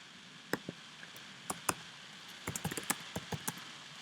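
Loud typing on a computer keyboard: sharp, irregular key clicks, isolated at first and then in a quicker cluster of taps, heard close over a faint background hiss.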